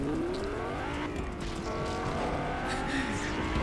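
Car in the video game Fortnite driving with a steady engine drone, rising pitch and tire noise throughout, loud and continuous.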